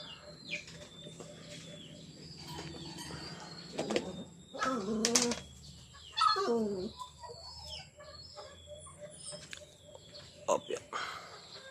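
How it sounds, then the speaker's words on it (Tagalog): A pair of pet African lovebirds gives sharp, high chirps and squeaks in scattered bursts, with quiet stretches between calls, heard close by at low overall volume. "Itong African bird. African lovebird."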